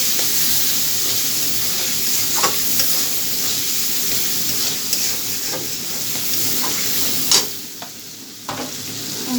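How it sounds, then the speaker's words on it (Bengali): Prawns fry in a hot pan with a steady, hissing sizzle, punctuated by occasional scraping stirs and sharp utensil taps, close and clear with no talking. "ভালো করে চিংড়ি মাছগুলো ভেজে নিব।"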